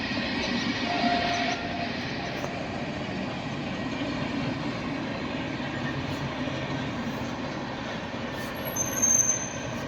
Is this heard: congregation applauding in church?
no